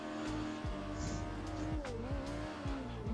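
Drifting race car in the Assetto Corsa racing game, a competition drift car with a loud revving engine that rises and drops through gear changes, with bursts of tire squeal, close and continuous.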